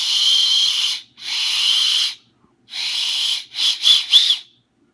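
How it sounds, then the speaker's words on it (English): Someone blows the whistle on a paracord survival bracelet, giving five airy, breathy high whistles: two longer blasts, then a longer one and two quick short puffs, loud and close. "If you really get air going in there fast, you can get a whistle."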